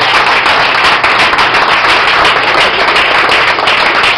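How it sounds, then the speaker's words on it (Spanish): A church congregation claps and applauds loudly and steadily, a dense, close wash of hand claps lasting several seconds. "Denle un aplauso a Cristo Rey."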